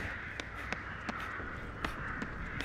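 Crows cawing in a video game, a string of about seven short, sharp caws at irregular intervals over a steady background hum, with no talk.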